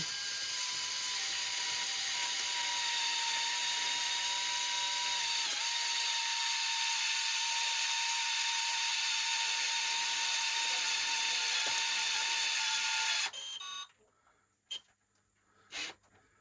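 A power tool screws a fitting onto an electric water heater being replaced, running as a steady, loud mechanical whine with a high tone for about thirteen seconds before cutting off, leaving near quiet with a couple of faint clicks.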